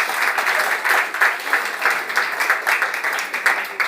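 An audience at a climate debate session applauds the moderator, a steady wash of many hands clapping throughout, moderately loud with a faint murmur underneath.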